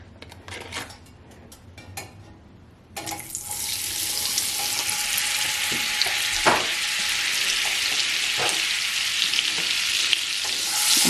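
A stick of butter in a pan, with a few light clicks and taps, then a sudden bright, loud sizzle that holds steady as it melts, dotted with occasional pops, close and without voices.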